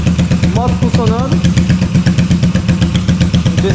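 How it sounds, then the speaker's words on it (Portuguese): Yamaha Virago 250 V-twin motorcycle engine idling with a steady, even pulsing thrum that has an odd single-cylinder character, running close and loud throughout. "Moto funcionando."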